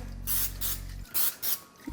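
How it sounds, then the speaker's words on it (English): Cooking spray hisses from a can in three short bursts, coating round cake pans for a doctored lemon cake mix; close and loud, with a low steady hum underneath at first. "I'm gonna get my cooking spray."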